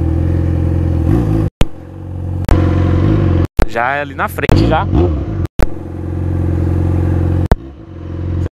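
A motorcycle engine drones steadily and close, with repeated abrupt cuts and shifts in its tone. Someone talks over it partway through.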